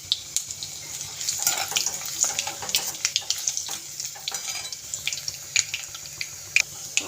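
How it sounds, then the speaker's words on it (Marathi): Garlic fries in hot oil in a pan for a masala curd tadka, a soft, irregular crackle of popping and spitting that stays fairly quiet and close throughout. "आता छान लाल होईपर्यंत व्यवस्थित भाजून घेऊया"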